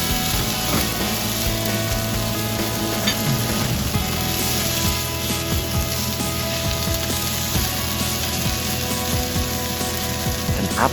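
Ginger and spicy layered bean curd rolls sizzle and crackle in a hot pan, a steady close frying hiss with scraping stir sounds throughout.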